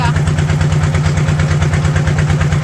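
A trawler boat engine near Sada Pathor in Sylhet chugs loudly and close in a steady, fast, even throb that holds for the whole stretch.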